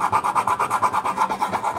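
Rhythmic rasping strokes of sandpaper rubbing across wood, a steady back-and-forth about seven passes per second, close and fairly quiet.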